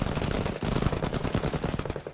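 Rapid automatic gunfire from a tactical video game, a steady stream of loud bursts and shots layered over game effects throughout, with no talking.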